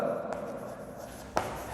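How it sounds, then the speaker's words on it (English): Marker or chalk writing on a board during a lesson on flowing-liquid energy, soft scratchy strokes with a sharper tap near the end, close and fairly quiet with no talk. "So I will write here pressure"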